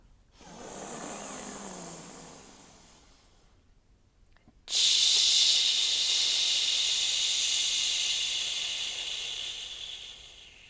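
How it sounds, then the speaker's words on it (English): Two long breathy exhalations shaped into a hissing "ch" sound, the second louder and sustained, separated by a brief pause. "then you'll breathe out a CH sound"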